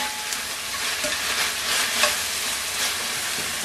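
Fresh spinach stirred in a frying pan as it wilts, a continuous loud sizzle with repeated scraping and tossing strokes, no talking.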